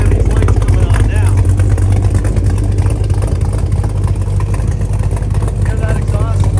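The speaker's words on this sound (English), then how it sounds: "Hear that exhaust idle there?" A 1968 Dodge Charger with a restored 440 V8 big block and automatic gearbox idles nearby, a steady deep exhaust rumble running throughout with a low pulsing lope, while someone talks over it.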